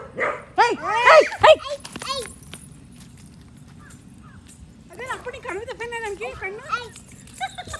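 A dog barks in a quick burst of sharp, close yips, then falls quiet before a second run of barks, with low background rumble throughout.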